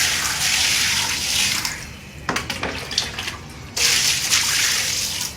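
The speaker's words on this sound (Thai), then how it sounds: "พอล้างเสร็จก็ ล้างน้ำอีกรอบหนึ่งนะครับ ให้มันสะอาด" Electric fan parts rinsed under running tap water after scrubbing with dish soap, a steady broadband splash that dips for a moment, then returns with irregular clattering splashes before settling into a continuous close flow.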